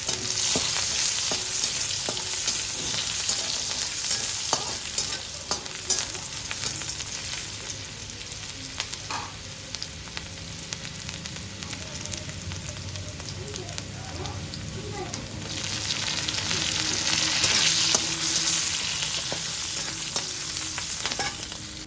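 Continuous crackling sizzle of onion and chili frying in oil, with occasional scrapes and clinks of stirring throughout.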